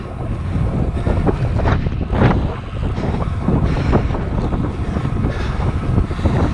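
Strong wind buffets the microphone during a road bike ride around Leicestershire, a steady, loud roaring rush that fills the whole stretch without any speech.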